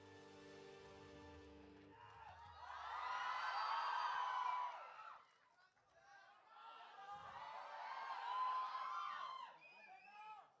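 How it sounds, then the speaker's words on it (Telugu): A press-meet audience in Hyderabad cheers, whoops and applauds to welcome Prithviraj to the stage. A brief music tail leads into two loud, swelling waves of crowd noise with a short dip between them. "Prithviraj గారిని గట్టిగా చప్పట్లతో వేదిక మీదకి ఆహ్వానం పలికేస్తున్నాం"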